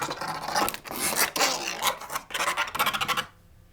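Combs scraped across a Tom Nunn skatchbox, a cardboard box instrument amplified with contact pickups, giving dense raspy bursts of scratching with short pauses, then a sharp stop into near silence.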